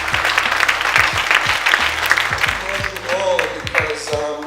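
A youth audience at a South Bronx anti-violence community event claps together in a sustained, dense round of applause at close range, with voices and cheers mixed in throughout.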